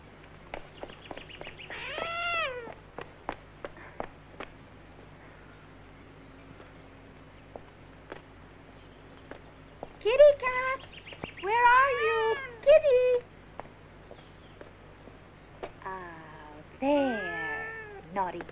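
A cat meows repeatedly indoors, drawn-out wavering calls arriving in clusters with quiet stretches between, some rising into a plaintive yowl, while a person speaks at times.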